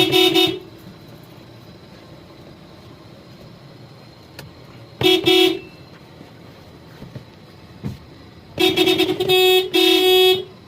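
A car horn honks three times after a clock spring replacement: one short beep, a second short beep a few seconds later, then a longer series of blasts near the end, over quiet background hum.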